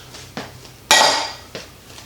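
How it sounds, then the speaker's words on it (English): Olives tossed into a bowl of chickpeas while making vegan hummus: a light clink, then one loud clattering spill that tails off, and a final small knock, close and alone. "I'm just going to throw the olives into the mix with the chickpeas"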